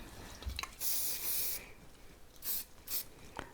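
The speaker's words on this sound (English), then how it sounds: "So I'm going to add a little bit of spray." Hairspray is applied to a braided wedding bun in a pin-up style in several short hissing bursts, two longer ones followed by two quick ones. The bursts are close and fairly quiet, with small handling clicks between them and no talking.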